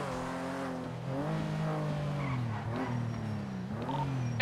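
Video game car engine humming steadily with rising and falling pitch as it revs and shifts, fairly loud and continuous with no talk over it.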